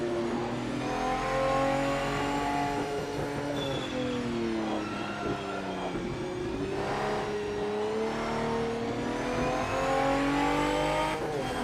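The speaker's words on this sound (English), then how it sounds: "I think they just took each car to one side and just revved the tits out of it." Several cars' engines rev hard in the racing game PMR, a continuous loud mechanical roar that rises and falls in pitch with layered harmonics, heard alone without talk.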